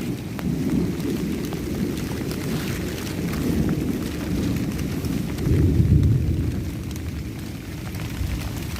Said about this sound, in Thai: ฝนกำลังตกอยู่ตอนนี้